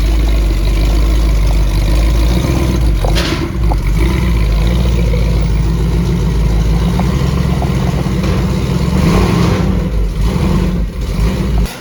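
A 1976 Ford Bronco on a chassis dyno, its engine running loud and steady with a deep, continuous rumble and slight swells in revs, close up and without talk.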